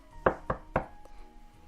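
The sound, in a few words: knocking on a bedroom door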